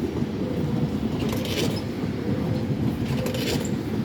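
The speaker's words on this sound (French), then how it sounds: "C'est normal que vous entendez les grincements." A Z50000 suburban train pulls out of the depot with steady low rumbling and intermittent high wheel squeals rising in two bursts, close by and without talk.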